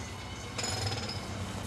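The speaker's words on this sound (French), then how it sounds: "La musique des marteaux-piqueurs?" A steady, harsh pounding roar of jackhammers fills the street, growing louder partway through and continuing without pause.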